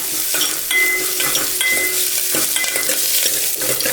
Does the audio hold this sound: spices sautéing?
yes